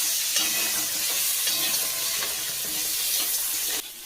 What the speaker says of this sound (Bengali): প্রথমেই ভেজে নিচ্ছি কাঁকড়াটা।